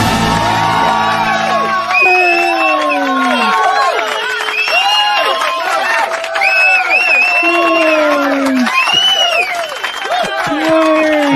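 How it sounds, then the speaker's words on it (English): A busload of people cheer, whoop and yell loudly together, overlapping excited shouts and high whoops continuing throughout, close and energetic. "We are cheering at our"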